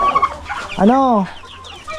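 A chicken on a farm gives a single loud drawn-out cluck at close range, with brief talk just before it and faint background noise.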